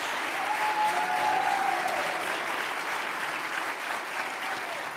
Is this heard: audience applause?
yes